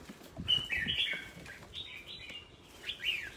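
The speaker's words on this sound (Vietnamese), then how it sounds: "Gà con." Baby chicks give several short, high chirps in small bursts, close and soft, with a few faint low shuffles between them and no talking.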